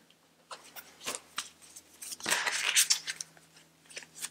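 Tarot cards being shuffled during a reading, a series of close crisp riffling and snapping bursts with a denser flurry midway and scattered quieter flicks, no voice over them.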